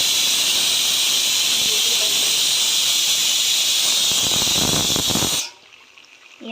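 Food frying in a pan in a home kitchen, a loud, steady sizzling hiss that holds for about five seconds and then stops abruptly, leaving near silence.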